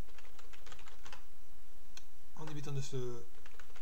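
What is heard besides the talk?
typing a root password on a computer keyboard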